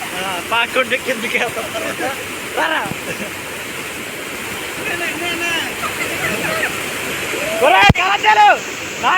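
Small cascades at Lodda waterfall, a constant broad rushing of water close by, with people talking and calling out over it.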